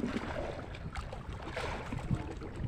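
Two engines run on a small fishing boat at sea, its load of big fish nearly sinking it, giving a steady, rumbling broadband drone with wind and water noise throughout, no voices.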